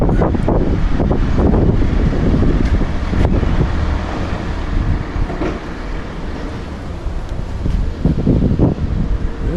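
Strong wind gusts over the open ruins of Pompeii, buffeting the microphone with a loud, rumbling roar that surges and eases across the whole stretch.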